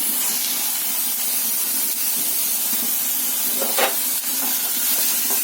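Egg curry ingredients with coriander leaves fry in a pan with a steady, close sizzling hiss that holds evenly throughout, with a few faint clinks near the end.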